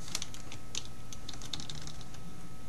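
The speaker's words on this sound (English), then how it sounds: "you're going to type" Fingers tap steadily on a computer keyboard, quick irregular keystrokes close and fairly quiet over a soft room hum, with no one talking.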